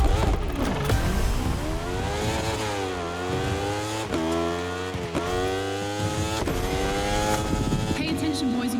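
Motorcycle engine racing in The Crew Motorfest, loud and continuous, with the revs repeatedly rising and dropping through gear shifts across the whole stretch.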